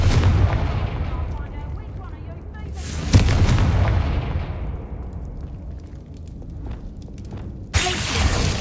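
Confringo fire spell blasts in Hogwarts Legacy: a loud booming explosion near the middle that fades into a long rumbling decay, with another sharp burst near the end.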